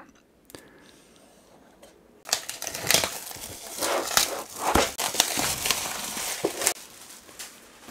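Cardboard packaging of a mini PC graphics dock being opened: faint handling at first, then loud crinkling, tearing and scraping of the box and inner wrapping, with sharp irregular crackles close by.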